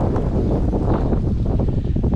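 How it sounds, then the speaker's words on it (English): Strong wind blowing outdoors on a lake in Algonquin backcountry during a spring canoe trip, heavy continuous gusty buffeting rumble loud against the microphone with no break. "Oh boy, it's windy."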